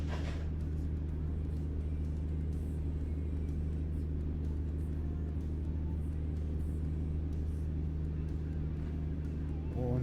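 A modded truck in the video game American Truck Simulator drones with a steady low engine rumble, constant and moderately quiet throughout.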